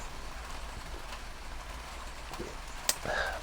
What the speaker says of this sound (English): So raining today.